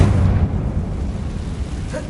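A Confringo blasting spell explodes in Hogwarts Legacy on PS5, a deep, rumbling boom that rolls on and fades over a couple of seconds.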